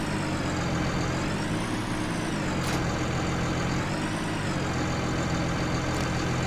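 A tractor engine in Farming Simulator 19 runs steadily, a loud continuous diesel drone with slight rises and falls in pitch, no voices over it.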